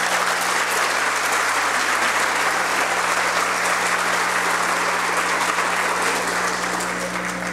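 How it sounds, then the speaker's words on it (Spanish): Loud, continuous applause from an audience honoring Luis Fernando at a talk on an accountant's legal responsibility, steady and dense from start to finish, with a low hum underneath and no speech. "Yo quiero solicitarles a ustedes un fuerte aplauso para don Luis Fernando."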